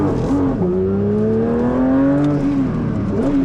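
A 2024 Porsche 911 GT3 Manthey Racing engine pulls hard at full throttle in first gear, its pitch climbing steadily then dropping briefly, loud and close from inside the car.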